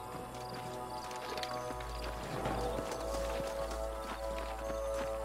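Horses' hooves clip-clopping at a run in the Red Dead Redemption video game, a steady rhythmic patter close by, with a brief whinny, ambient game music and background noise.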